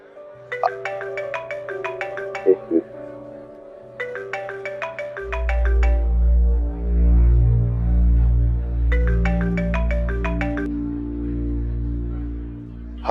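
A mobile phone plays a melodic ringtone for an incoming call, repeating its short bright phrase in bursts while a swelling drama score rises underneath.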